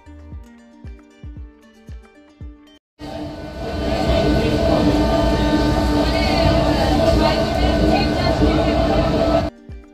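After a few soft plucked notes, a train on the Panskura–Digha rail line roars past with a loud, steady rumbling clatter that holds for several seconds before cutting off abruptly near the end.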